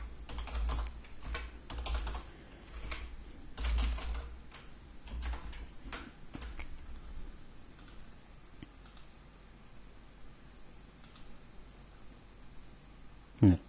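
Typing on a computer keyboard, with quick clusters of close key clicks for the first several seconds, then sparser, quieter taps and a final sharp click.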